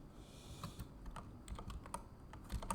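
Quiet computer keyboard typing of PowerShell code, scattered individual keystrokes over a low background hum, fairly faint and close.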